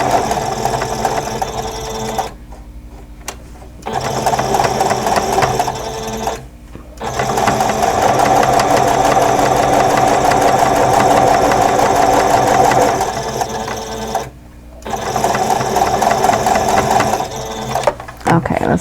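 A sewing machine stitches quilt block seams in loud, steady mechanical runs, stopping briefly three times between bursts and restarting, with someone talking faintly over it.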